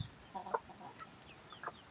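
Newly hatched chicks peeping softly, a few brief high cheeps scattered across a quiet background, faint and close, with no talk.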